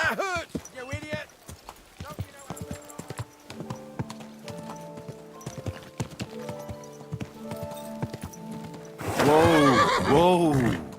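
Horses in a medieval role-playing game neigh and whinny loudly, with clip-clopping hooves beating in a steady rhythm, and a closing burst of whinnying near the end; someone speaks over the sounds.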